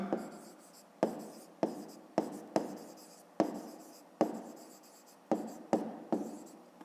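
A fifth-grade math solution is written by hand with about a dozen distinct scratchy strokes, each starting sharply and then fading. They come in an uneven rhythm, close and clear, against a quiet background with no talking.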